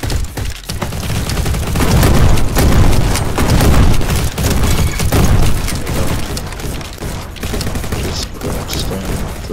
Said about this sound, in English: Just going to throw a grenade through there just to go away.